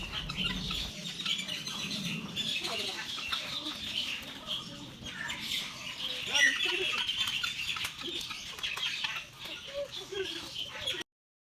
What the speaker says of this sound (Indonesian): Di sini ada ayam, lucu-lucu ayamnya.